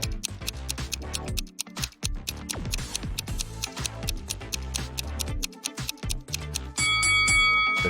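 An alarm clock ticks in quick, sharp, regular clicks, and a bright ringing tone rises over the ticking near the end.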